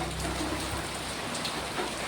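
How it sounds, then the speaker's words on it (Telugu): Heavy rain falls steadily outside in a dense, even downpour, a constant wash of drops on surfaces with no gaps or voices. "ఇప్పుడు చాలా వర్షం పడుతుంది బయట"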